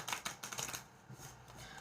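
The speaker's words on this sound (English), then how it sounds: "Shuffle some cards." Tarot cards being shuffled during a love reading, a quick run of soft papery riffles and flicks in the first second, then a quieter rustle continuing at low level with no voice over it.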